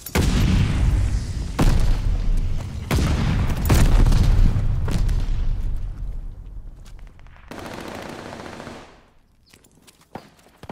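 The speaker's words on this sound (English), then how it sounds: "Throwing stun grenade." Loud in-game gunfire and booming blasts from a Call of Duty Vanguard multiplayer match, with several sharp bursts over the first five seconds, one of them from a stun grenade, then a long rolling rumble that fades to quiet.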